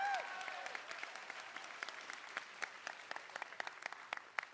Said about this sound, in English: please give Abby and her team a round of applause